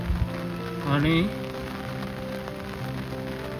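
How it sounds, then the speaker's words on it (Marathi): Torrential monsoon rain pours down in Konkan, a dense continuous hiss of rain hitting surfaces close by, with someone talking over it. "हे बघा पाऊस एवढा मुसळधार पडतोय ना"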